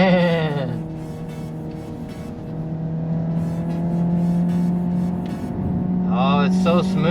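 A Hyundai Ioniq 5 N on track at Road America plays its synthetic engine sound, a steady buzzy tone with stepped pitch sweeps like gear shifts, close and continuous under cabin noise.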